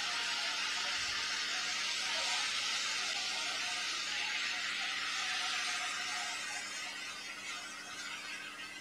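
Beef broth hisses and sizzles steadily as it hits a hot pan of browned onions, a close, continuous bright sizzle that slowly settles over several seconds.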